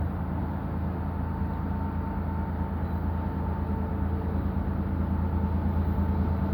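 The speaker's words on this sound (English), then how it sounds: "Oh, the train is coming. It's going to be loud." A train rumbles past nearby, a steady, loud low-frequency roar with a faint high whine, continuous throughout with no talking.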